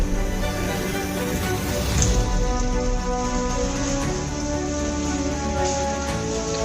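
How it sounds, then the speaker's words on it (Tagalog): Hard rain pours steadily during a Florida afternoon thunderstorm with strong wind, a dense, loud, continuous wash of falling water close by and no voices. "Hard rain, hard wind, thunder, and lightning."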